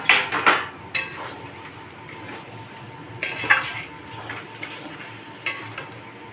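A pot lid is lifted off a pan of kochu shak cooked with ilish fish heads: a few close metallic clinks and scrapes of lid and utensil, with soft kitchen clatter in between.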